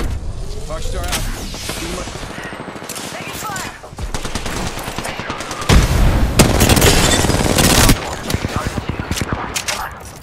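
Heavy video game gunfire: sustained automatic bursts and loud blasts, close and dense throughout, with bursts swelling and a voice talking over the shooting.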